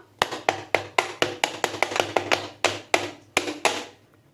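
Cake mould filled with Swiss roll batter tapped on a counter to settle it: about fifteen light, sharp knocks in a steady rhythm, close and clear, then stopping.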